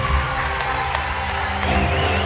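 Cheering crowd at a French sports awards ceremony welcomes an Olympic downhill silver medallist onto the stage, a dense, steady roar of voices and clapping filling the whole moment without a break.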